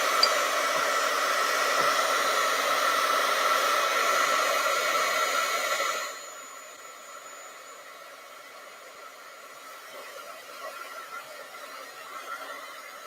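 A hair dryer blows on a watercolor painting, a steady loud whirring hiss for about six seconds, then cuts off, leaving quiet room sound with faint movement.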